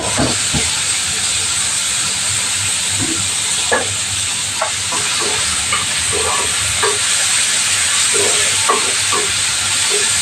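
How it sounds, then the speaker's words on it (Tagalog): Tomatoes dropped into a pan of browned garlic and onion sizzle with a loud, steady hiss of frying, with occasional stirring clatter close by, no talking. "Ngayon, lagay na natin yung kamatis natin"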